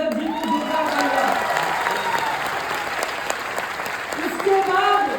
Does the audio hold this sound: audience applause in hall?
yes